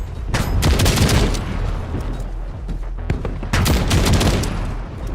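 Loud, close gunfire in the tank combat game Tankhead, heavy booming shots and rapid bursts firing repeatedly, with a second barrage in the latter half.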